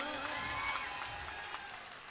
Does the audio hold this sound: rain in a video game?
no